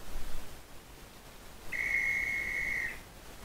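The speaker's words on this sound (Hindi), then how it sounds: "सीटी फिर बजी।" A single steady high whistle sounds for just over a second as an effect in a narrated Hindi story, clear above a soft hiss with no voices.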